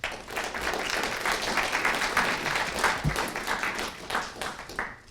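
An audience at a student government executive candidate forum applauds steadily for several seconds, a dense wash of many hands clapping at moderate distance, fading slightly at the end.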